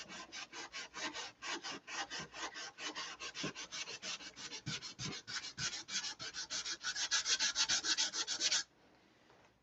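Fiberglass is sanded by hand with 180-grit sandpaper in a steady rhythm of quick rasping back-and-forth strokes. The scraping is close and fairly quiet, runs unbroken for several seconds, then stops. No one speaks.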